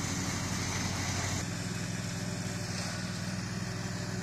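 A lawn mower runs steadily at a shooting range, its engine drone continuous and fairly distant, with a slight change in tone partway through and no voices.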